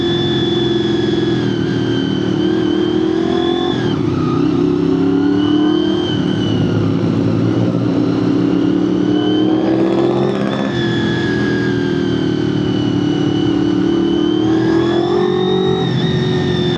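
Honda VFR 400K motorcycle engine accelerating hard, revs climbing repeatedly through gear changes in a loud, close, rising whine with brief dips between pulls.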